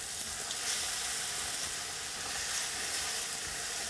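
Onions and bacon sizzling in a pan with brown sugar, a dense, even frying hiss that holds steady throughout with no voices.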